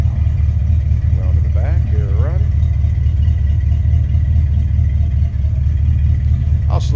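A 1969 Ford Galaxie XL with a 429 V8 runs at a steady idle, a loud continuous low rumble throughout, with brief voices and a faint whistle-like squeal rising over it partway through.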